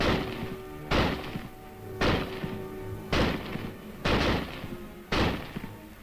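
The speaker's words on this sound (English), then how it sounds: "Simply insert another clip of 8 rounds and commence firing." Springfield rifle fires repeatedly in a steady string of about six sharp, loud shots roughly a second apart, each with a short ringing decay, no talk.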